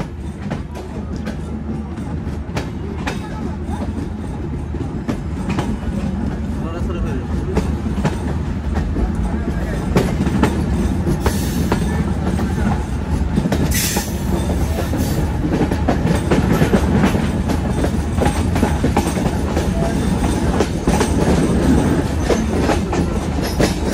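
Inside the Kopotakkho Express intercity train travelling from Rajshahi to Khulna: a continuous loud rumble with rhythmic clickety-clack of wheels on rails throughout, the steady roar building slightly over time.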